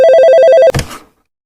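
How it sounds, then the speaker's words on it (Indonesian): A telephone rings for an incoming call with a rapid warbling electronic trill, loud and close, cut off abruptly after under a second, followed by a short clatter. "saat ada panggilan telepon masuk"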